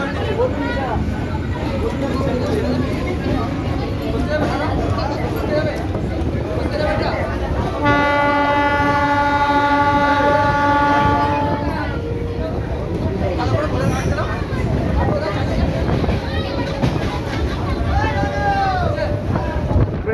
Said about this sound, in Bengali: ট্রেন আমাদের ছাড়তে চলেছে